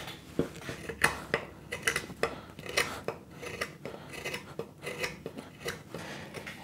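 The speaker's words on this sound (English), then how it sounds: "Now I'm gripping the chisel, and as I pull my fingers closed, I'm slicing the chisel towards me." A chisel slices and pares wood to trim a stool seat tenon, giving a run of short, close scraping cuts in an uneven rhythm, each a crisp rasp heard alone at close range.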